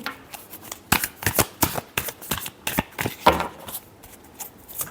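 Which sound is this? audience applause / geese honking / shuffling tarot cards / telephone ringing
shuffling tarot cards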